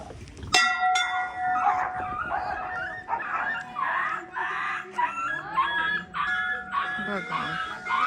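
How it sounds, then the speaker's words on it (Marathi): Dogs fighting and barking outside Tabo Monastery, repeated snarling yelps and barks in short bursts over a steady ringing tone, with people talking nearby. "इथे कुत्र्यांचं भांडण झालं"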